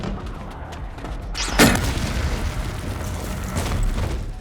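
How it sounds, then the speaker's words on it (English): A massive explosion set off by a trap in a film action scene bursts out as a single sharp blast, followed by a rumbling, noisy tail that lingers for a few seconds. "they trigger one of Brian's traps, causing a massive explosion"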